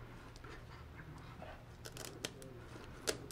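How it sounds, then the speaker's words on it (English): Quiet snipping of scissors cutting the pelvic fins off a lionfish, a few sharp clicks spaced irregularly, with soft handling noises between cuts. "I'm going to use the scissors to remove the pelvic fins first"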